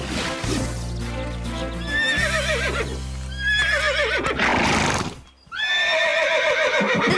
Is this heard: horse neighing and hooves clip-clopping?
yes